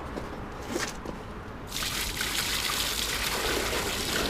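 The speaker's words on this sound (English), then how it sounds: "That's how the drain should be running, whooshing all the way through." Water from a toilet flush running away down a drain, starting as a thin trickle and then swelling into a steady, close whooshing gush that carries on to the end.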